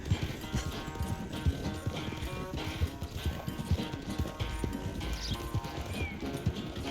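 Horse hooves clip-clopping in a rapid, steady galloping rhythm in Red Dead Redemption 2, close and continuous over a busy game soundscape.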